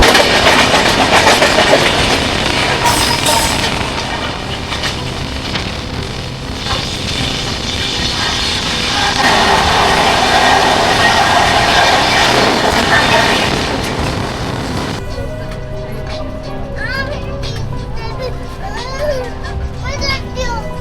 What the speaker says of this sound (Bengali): সামনে থেকে আসছে 22306 জেএসএলটি থেকে বেঙ্গালুরু উইকলি সুপারফাস্ট এক্সপ্রেস।